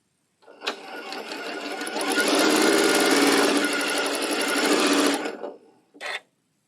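A sewing machine fitted with a zigzag plate pieces a quilt block in one continuous run of fast, close, rapid stitching, rising in speed and then stopping, followed by a brief second burst.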